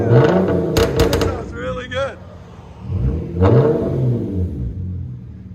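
A Hyundai Genesis Coupe 3.8 liter engine is revved hard several times, loud and close, with a brief voice between the bursts.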